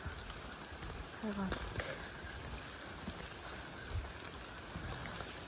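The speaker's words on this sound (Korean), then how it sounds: "비가 너무 많이 오고 있어요" Heavy rain falls at a campsite deck at Bulgeun Oreum in Jeju, a constant hiss of drops drumming on surfaces close by, with a voice speaking briefly over it.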